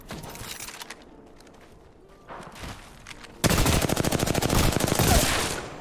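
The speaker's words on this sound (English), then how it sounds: "Oh, look, he's shooting at the other person." Video game gunfire: after quieter, scattered game sounds, a loud, dense burst of rapid automatic shots erupts and keeps up steadily to the end, with no talking.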